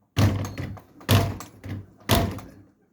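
Three heavy thuds about a second apart, a door swinging and banging shut repeatedly, close by with some rattle after each.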